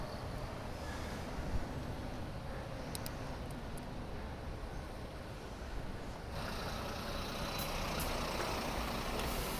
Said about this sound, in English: surrounded by buses and coaches, boxed in at all sides